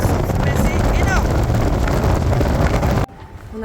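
Strong wind buffets the microphone on a walking trail of the Saint-Jacques-de-Compostelle pilgrimage route between Saint-Chély-d'Aubrac and Espalion, a loud, constant roaring rumble that drops abruptly to quieter gusts near the end.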